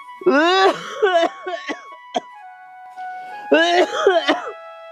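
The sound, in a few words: coughing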